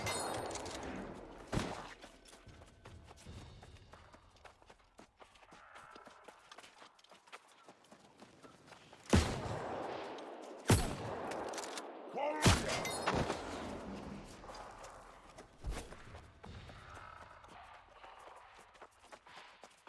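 Blunderbuss blasts in the New World game ring out as a few sharp, loud booms spaced irregularly, with a galloping horse-like patter and scattered thuds in between.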